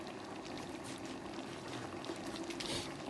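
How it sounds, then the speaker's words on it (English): Water poured into a cooking pot of chicken and butternut squash, a quiet continuous splashing pour without a break, close by and alone. "I guess I'm gonna throw some water in it"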